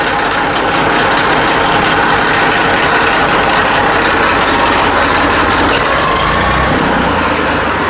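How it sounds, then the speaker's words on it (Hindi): A used tractor engine runs steadily at close range at a farmer's home sale, its loud continuous chugging and mechanical rattle holding throughout, with a brief hiss-like burst near the end. "आवाज सुन लो इंजन की भी"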